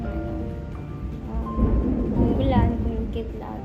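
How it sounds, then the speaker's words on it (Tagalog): Thunderstorm with rain falling, a steady hiss of rain with a swelling rumble of thunder midway, under a person talking throughout. "umuulan, kumikidlat"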